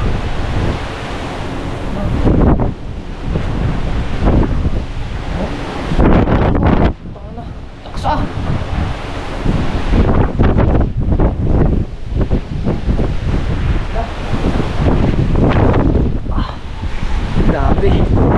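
Strong winds of Super Typhoon Uwan at landfall in Batangas roar and buffet the microphone continuously, loud and gusty, with surging rushes and brief lulls.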